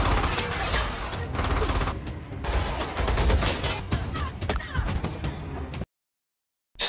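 Gunfire in an action film shootout: rapid bursts of shots and clatter across several seconds, dense and loud, followed by a sudden cut to silence near the end.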